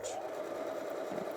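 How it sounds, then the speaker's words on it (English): A sewing machine runs a zigzag stitch on a hoodie, a steady, close, continuous mechanical whir with no break for over a second. "then we can sew your zigzag stitch"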